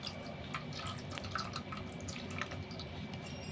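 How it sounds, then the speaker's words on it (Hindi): A tulsi bead mala is dipped and washed in water, giving soft, close trickling and dripping sounds with small splashes, quiet and continuous, with no talking. "इस तरीके से आप ज़रूर एक बारी माला को अच्छे से पानी में डुबो दें।"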